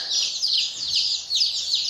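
Dense, continuous high chirping of many newly arrived mail-order chicks just released from shipping boxes into troughs, an assortment of poultry breeds, loud and close with overlapping peeps and no talk.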